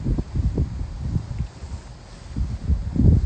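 Wind buffets the microphone outdoors in a field with retired mares, giving low, uneven rumbling gusts that swell, ease off in the middle, and build again loudly toward the end.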